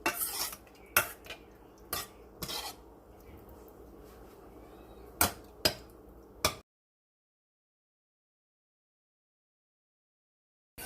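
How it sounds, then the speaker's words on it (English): A spoon stirs diced tomatoes in a pot, making a series of sharp metallic clinks and knocks at irregular intervals over a quiet background for about six seconds before falling silent. "now we're going to go ahead and give this a stir"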